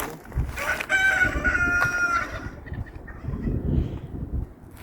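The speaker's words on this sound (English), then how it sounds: "We got some turkeys over here somewhere making a bunch of noise." Turkeys call out nearby in a noisy outdoor homestead yard, one drawn-out, harmonic gobble rising above a rough, continuous background of clucking and rustle.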